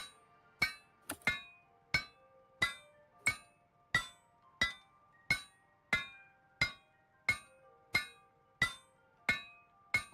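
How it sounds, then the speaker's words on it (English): A ball peen hammer strikes metal in the game Project Zomboid, sharp ringing clinks repeating at an even pace of roughly one every two-thirds of a second, with a quick double hit early on, no talk. "Why are you using a ball peen hammer for this?"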